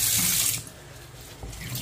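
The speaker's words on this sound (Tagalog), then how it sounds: "Kasi kailangan may pambara tayo sa lababo eh. Para hindi bumaba agad yung tubig." Tap water pours into a plugged kitchen sink while pets are bathed, a steady hiss that is loud at first, then softer and continuing without talk.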